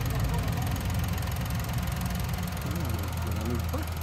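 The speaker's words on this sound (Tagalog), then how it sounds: "Pakinggan ninyo ang kanyang handar sa makina." Engine of a used Japanese-import car with an RO6 engine, idling cold, a steady low rumble with a faint knocking rhythm held for the whole stretch.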